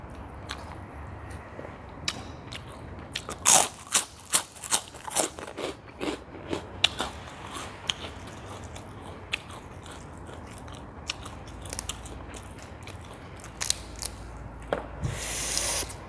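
Crispy pork rinds are crunched and chewed up close alongside a spicy Thai papaya salad, with loud, irregular bites and crackles clustered together, then scattered, softer chewing.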